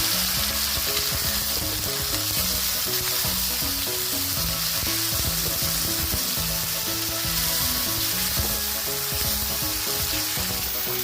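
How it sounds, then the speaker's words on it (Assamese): Marinated meat frying in hot oil with onions in a home kitchen, giving a dense, steady, loud sizzle throughout with no voices. "এতিয়া মেৰিনেট কৰি ৰখা মাংসখিনি তেলত দি দিয়া হৈছে আৰু মাংসখিনিও আমি অলপ টাইমৰ কাৰণে ভাজি ল'ম"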